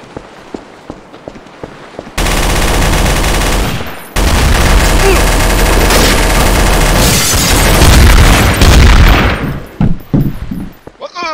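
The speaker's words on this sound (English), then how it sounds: "This fucking TTT Inblitz guy just keeps shooting everybody." Sustained, loud video-game gunfire in Trouble in Terrorist Town, a dense rattling burst that runs for several seconds after some faint rustle, with a short break partway, then fading into scattered quieter sounds.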